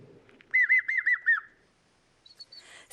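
A bird sings a quick run of five or six looping whistled notes in a wetland setting on the Baie de Somme, followed after a pause by a few fainter high chirps, clear and fairly close with no talk.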